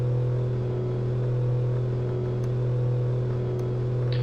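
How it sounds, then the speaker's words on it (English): A car engine in Car Mechanic 2015, an FMW Panther held at steady high revs on a dyno, a loud constant droning hum with a faint whine throughout. "let's whack it over in the old dyno and let's push some buttons"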